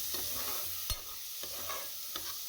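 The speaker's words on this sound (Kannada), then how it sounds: "ನೆಕ್ಸ್ಟು ನಾನು ಶುಂಠಿ ಬೆಳ್ಳುಳ್ಳಿ ಪೇಸ್ಟ್ ಹಾಕ್ಕೊಂಡು ಫ್ರೈ ಮಾಡ್ಕೊತಾ ಇದ್ದೀನಿ" Ginger garlic paste frying over low heat in a pan, a continuous soft sizzle with a few brief stirring knocks and scrapes, no voices.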